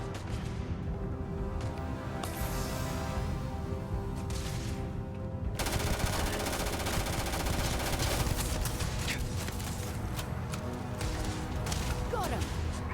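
A Maelstrom rifle in the sci-fi shooter Starfield fires sustained rapid automatic bursts, loud and dense throughout. The shooting continues with impacts and combat noise and grows heavier after the first few seconds.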